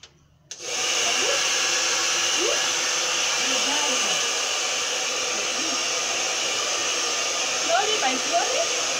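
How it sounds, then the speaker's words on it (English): A handheld hair dryer switches on with a sharp start and then runs as a steady, loud, continuous whoosh for blow drying hair, its airflow tone holding even throughout. "Then to blow dry her, you need a power source, a small extension. You switch it on."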